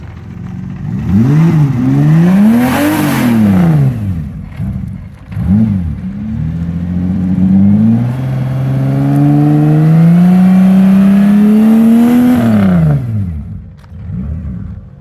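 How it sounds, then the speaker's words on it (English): An Oldsmobile diesel car engine revved repeatedly, rising and falling in pitch with several sharp blips and one long climbing rev, loud and close. "Let's hear some real revs."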